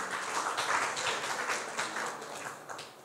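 A church congregation claps together in a sustained, moderately distant round of applause that slowly fades over a few seconds.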